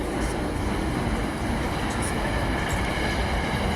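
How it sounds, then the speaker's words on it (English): A passing train gives a loud, steady rumble with rail clatter and faint wheel squeal, continuous through the whole stretch at an outdoor city mural unveiling, with no talking over it. "I'll wait for the train to come by."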